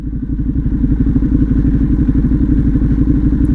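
Warmed-up Harley-Davidson Pan America motorcycle engine running at a high idle, a fast, even, throbbing beat close by with a faint mechanical clatter on top, steady throughout with no talking.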